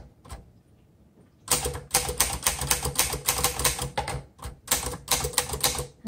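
Keys clack on a 1949 Underwood Champion Finger Flite manual typewriter after a quiet start, a fast, loud run of sharp strikes with short pauses and no speech.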